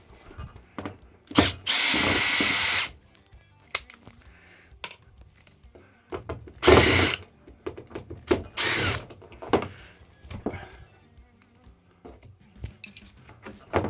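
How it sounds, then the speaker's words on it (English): A power tool whirs in short bursts while taking off hose clamps on a brew shed hose setup, with a longer run near the start, brief spurts later and small clicks of handling in between. "So what I'm going to do effectively is take off these clamps here."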